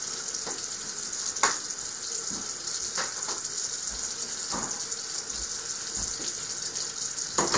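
A bathroom tap runs steadily for washing the face at night, a constant close hiss of flowing water with a few soft splashes and clicks scattered through it.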